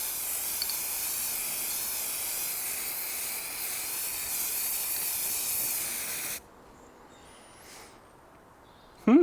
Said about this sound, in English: I've got black spray paint